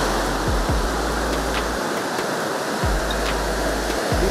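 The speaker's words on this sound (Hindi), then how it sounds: "लहरें बड़ी जबरदस्त है आज" Large waves at high tide on Kuta Beach, Bali, crash in a steady, loud roar of broadband surf, with deeper low thumps recurring every second or so.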